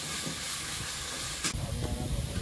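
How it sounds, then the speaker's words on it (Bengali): Spices with turmeric and salt frying and being stirred in a pan as the masala dries down: a steady loud sizzle and hiss with scraping stir strokes, and a sharp burst of spitting partway through. "এবার এটাকে একটু নেড়ে চেড়ে কষিয়ে নিতে হবে।"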